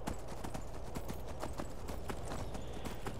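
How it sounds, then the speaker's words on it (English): Hooves of a ridden horse clip-clop in Skyrim, an even, rhythmic gait of sharp clear hoofbeats at close range, with no talk over them. "Climb back on my horse and move on again."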